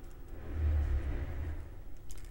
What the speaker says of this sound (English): You hear that? Trees are getting killed.